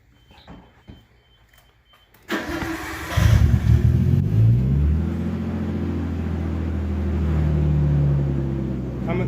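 A 1991 Nissan Skyline, freshly back on four wheels in a garage, starts up after quiet shuffling and revs loudly and steadily, its engine note holding and swelling slightly as the car rolls, close and dominant.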